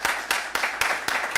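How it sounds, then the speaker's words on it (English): Short burst of audience applause at a security training class graduation ceremony, a steady broadband patter of many hands with a few sharper individual claps standing out, fairly close and moderately loud. "So a round of applause for them."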